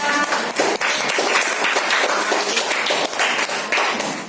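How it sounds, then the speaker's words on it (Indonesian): Primary school pupils in a fifth-grade classroom clap their hands together: loud, close, continuous clapping from the whole class, sustained for several seconds. "tepuk tangan untuk kita semua"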